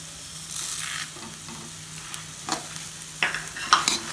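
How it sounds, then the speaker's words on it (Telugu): Curry leaves and sesame seeds frying in a pan for spicy curry leaf powder, a steady hiss and sizzle with occasional stirring scrapes and small pops, close and alone. "నువ్వులు కూడా వేసి కొంచెం ఫ్రై చేసుకోవాలి"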